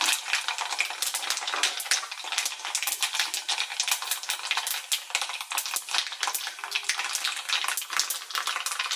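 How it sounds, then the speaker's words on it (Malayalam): Mustard seeds pop and splutter in hot oil in a steady, dense crackle that lasts the whole time, close and continuous, with no talking. "കടുക് പൊട്ടുവാണ്."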